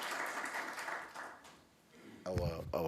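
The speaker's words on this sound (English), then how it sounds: "a round of applause for that point" Applause from the audience at a high-level meeting, a steady wash of clapping that thins out, then gives way to someone speaking over the tail end.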